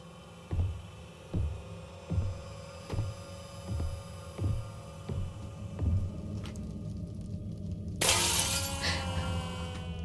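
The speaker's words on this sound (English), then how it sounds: "so I have to smash all the mirrors?" In the horror video game Visage, a low throbbing hum pulses about eight times in a slow, heartbeat-like rhythm before a loud glass shatter of a mirror bursts near the end, followed by ringing.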